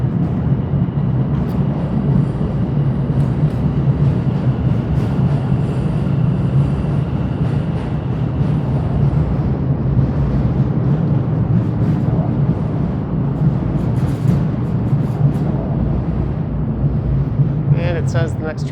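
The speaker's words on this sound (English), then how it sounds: "Sounds like there's some service trains rolling through the line 1 platform up top." A continuous low rumble and rolling clatter of Toronto subway service trains passing through a Line 1 station platform above, steady and fairly loud, with faint higher squeals near the end.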